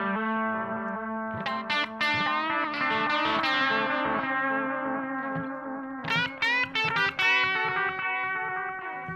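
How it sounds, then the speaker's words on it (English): Distorted electric guitar played through a Boss DD-7 digital delay pedal, sustained chords and picked notes trailing into softly decaying analog-style repeats, steady and loud with no talk. "hear the way that that repeated sound decays, especially in comparison to the standard digital modes, which is a really nice organic sound to the delay"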